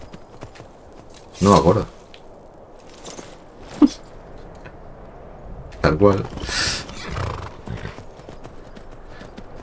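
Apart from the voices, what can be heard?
horse hooves in the video game Skyrim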